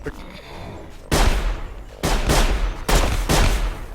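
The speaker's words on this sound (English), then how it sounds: "That is a lot of gunfire." Bursts of rapid gunfire erupt in three loud volleys in the video game Six, You Are Being Hunted, separated by brief quieter gaps with a faint background hum.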